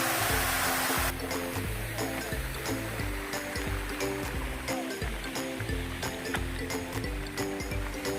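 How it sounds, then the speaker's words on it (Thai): Steady rushing of a waterfall in rural Thai farmland, a broad constant wash of flowing water with a low rumble, fairly close and continuous, without voices. "อันนี้เป็นบรรยากาศรอบๆ น้ำตกนะครับ"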